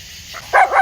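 Two dogs, named Ollie and Mouse, give short, sharp barks up close, two quick loud yips in under a second that come in after a faint higher whine.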